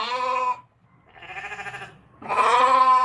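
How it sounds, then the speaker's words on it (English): A ram bleats three times in long, wavering cries, played as a sound effect. The calls are loud and close, with short gaps between them. "That's not a sheep, that's a ram."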